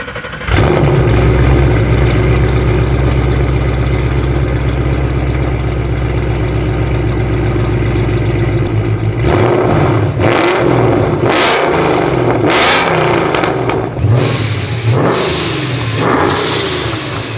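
A Paxton-supercharged 850-plus horsepower Mustang GT engine idles with a deep rumble, then revs hard several times, the roar rising and falling in loud bursts close to the microphone.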